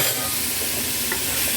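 Carrots and fresh tofu stirred in a hot pan, a steady loud sizzle of frying with faint scraping of the utensil, no talking.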